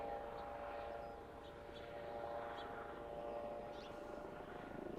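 A helicopter landing nearby at a distance, its faint steady drone and rotor hum holding low and even behind quiet outdoor background, heard alone without talk.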